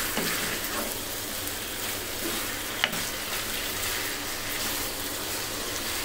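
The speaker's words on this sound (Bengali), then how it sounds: "কিছুক্ষণ মশলার সাথে কষিয়ে নিয়েছি" Spicy broiler chicken sautés with spices in a pan, a steady dense sizzle like close rainfall. It holds at an even level throughout, with one brief clack partway through and no voices.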